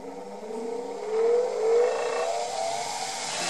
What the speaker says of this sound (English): Now once you start the wheel up,